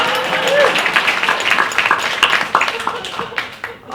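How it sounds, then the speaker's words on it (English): An audience at a 2013 meet-the-candidates panel held by the League of Independent Theater claps steadily for about four seconds, a dense patter of hand claps with voices mixed in underneath. "Let's give them a round of applause."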